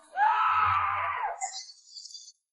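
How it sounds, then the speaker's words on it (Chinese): A loud, drawn-out cry of pain rings out from inside a bathroom as someone is scalded by a water heater's hot water. The single scream lasts about a second and is followed by fainter, hissy noise. "浴室里传出一阵惨叫"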